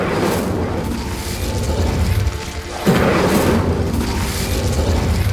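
Incendio fire spell in the video game Hogwarts Legacy, heard as a dense, roaring burst of flame with a heavy low rumble that swells sharply near the middle and keeps burning loudly.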